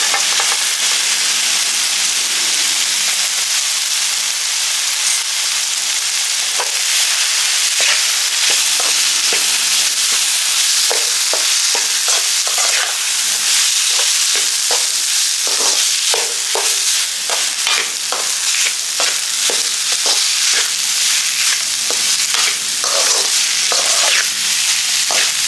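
Cooked rice being stirred together with a fried coriander mixture in a hot pan, a steady close sizzle with frequent scraping and clinking of the spoon against the pan throughout.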